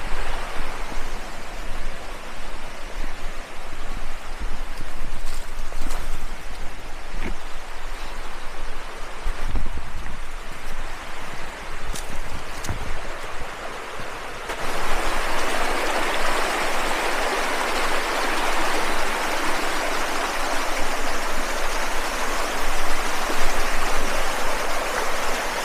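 Clear creek current at Graves Creek Falls near Thompson Falls, Montana, rushing steadily and close by with no voices; about halfway through the flow turns into a brighter, louder hiss.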